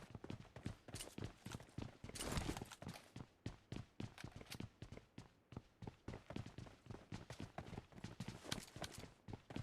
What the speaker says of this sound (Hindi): अब सुनो, या मैप में देखो, आपको उस बंदे के फुटस्टेप्स दिख जाएंगे